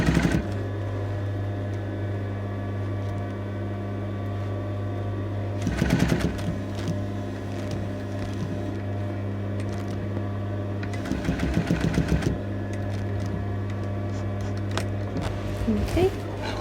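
A sewing machine stitches in an invisible zip, running with a steady motor hum and two louder bursts of rapid needle clatter, close and alone.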